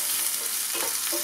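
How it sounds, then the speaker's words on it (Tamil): Curry leaves, garlic and ginger sputter in a little oil in a pan, a brief, even sizzle heard close up and alone. "அதே பேனில் கொஞ்சம் எண்ணெய் விட்டு கருவேப்பிலை போட்டுக்கலாம், பூண்டு 4 பல்லு பூண்டு"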